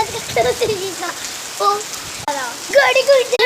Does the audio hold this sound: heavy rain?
yes